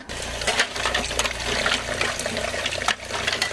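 A kitchen tap runs in an RV while pressure-canning tomatoes, a steady loud hiss of flowing water throughout with faint clinks and a brief dip near the end, no voices.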